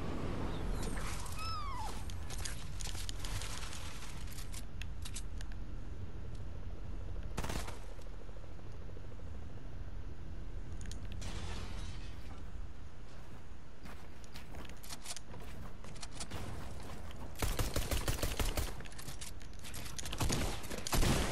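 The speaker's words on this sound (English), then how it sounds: "Shotgun." Video game gunfire fills a solo match, with repeated sharp shotgun-like bursts and scattered shots over a constant noisy game bed. The firing is densest near the end, and a cat-like squeal is heard early on.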